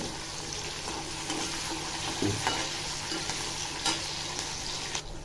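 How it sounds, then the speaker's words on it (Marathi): Green chillies stir-fried in a pan give a steady close sizzle, broken by a few spoon scrapes and light knocks against the pan, with no talking. "मिरच्या चांगल्या परतून घेते"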